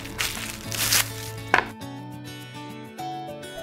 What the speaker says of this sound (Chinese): 用刀切片